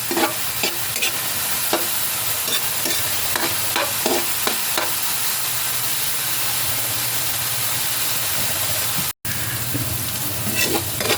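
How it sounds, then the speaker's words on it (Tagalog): Carrots and potatoes sauté in a pan, with a continuous close sizzle and hiss and repeated scraping taps of a utensil stirring, plus one brief cut in the sound near the end. "Igisa nyo lang po yan sa lumambot."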